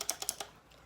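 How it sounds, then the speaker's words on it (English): Quick, crisp keystrokes on a clicky Razer Quartz keyboard: about five sharp clicks in under half a second, close and fairly quiet, with no talking. "I really like the clicky keyboards"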